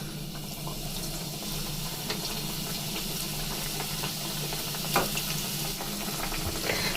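Four samosas with a cauliflower and carrot filling fry in hot oil over a low flame, giving a steady, soft bubbling hiss with faint clinks of a utensil now and then.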